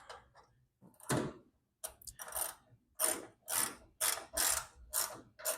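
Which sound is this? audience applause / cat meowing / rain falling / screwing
screwing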